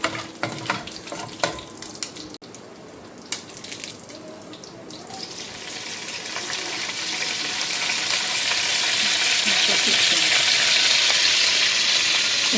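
Whole garam masala, cinnamon, shahi jeera, bay leaf and cloves frying in hot oil, with a few scattered clinks and faint crackles at first, then curry leaves going in and swelling into a loud steady sizzle, close.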